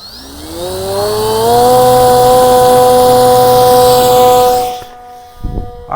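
An RC airplane electric motor, the FlightLine Velocity, spools up to 80% throttle with a loud rising whine that holds steady for several seconds, then cuts off abruptly with a brief thump after.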